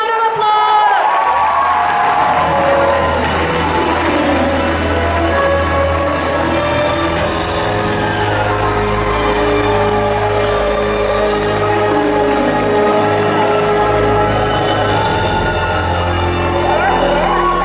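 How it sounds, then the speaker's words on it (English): A large comic con crowd claps, cheers and whoops for the Nightmare on Elm Street cast, loud and sustained, with a low music bed and some shouting voices mixed through. "Round of applause!"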